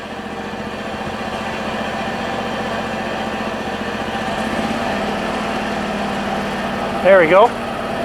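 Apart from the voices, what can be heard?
HotJet II unit engine throttling up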